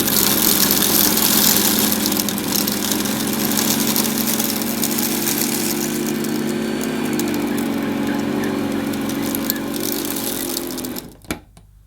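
A 1970s Princess Light 'n' Easy electric carpet sweeper running steadily with a loud, even motor hum and brushing noise, cutting off abruptly at the end.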